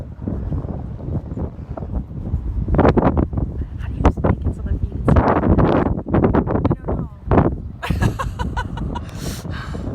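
Outdoor wind buffets the microphone in low rumbling gusts throughout, under a person talking on a breezy day.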